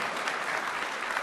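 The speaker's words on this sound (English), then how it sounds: "You can applaud." Short burst of audience applause at the BUILD 2014 tech conference, a dense, even patter of many hands clapping.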